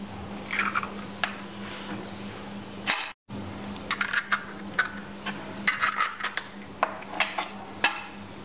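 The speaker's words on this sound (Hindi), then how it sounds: "सबसे पहले हमने अंडे डालेंगे बाउल में।" Eggs go into a bowl for homemade cake rusk. Sharp clinks and taps of shell against the bowl arrive in scattered bursts over a low hum, with a short silent gap partway through.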